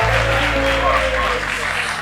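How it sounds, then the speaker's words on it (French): Outdoor show crowd applauding loudly and steadily for about two seconds, a dense continuous clatter with a low hum and faint tonal background underneath. "On peut les applaudir déjà très très fort."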